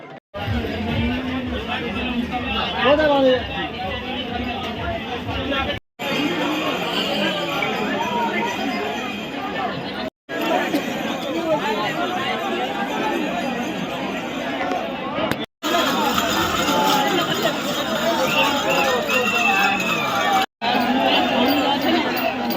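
Crowd at Sheoraphuli railway station on the way to Tarakeswar, a dense steady babble of many voices and footsteps close around, broken by a few short cuts.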